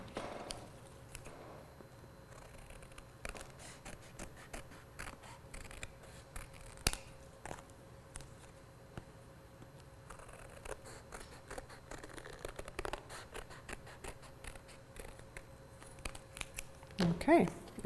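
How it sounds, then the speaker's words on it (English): Scissors cut around a paper rainbow for a kids' texture rubbing collage craft, quiet intermittent snips and paper rustling heard close up, with a steady faint hum underneath. "We're gonna cut around, but we are not going to cut to the hole."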